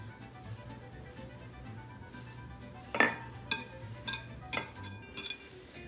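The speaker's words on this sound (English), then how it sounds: "And we're gonna mix." Pie dough for mini apple pies being mixed in a bowl after ice cold water goes in, with a steady low hum underneath and a handful of sharp clinks of utensil against bowl near the end.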